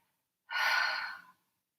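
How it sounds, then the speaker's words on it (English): A single full exhale through the mouth during a slow moving meditation, one soft, breathy sigh lasting under a second, close and isolated in silence. "Maybe making a sound, maybe breathing through the mouth as you exhale."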